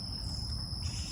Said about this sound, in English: There's a lot of frogs croaking,